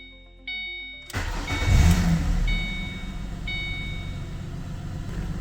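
A 2005-2014 Ford Mustang V6 cranks briefly and fires up with a rising surge, then settles into a steady, close idle rumble, with a few faint electronic chimes at the start.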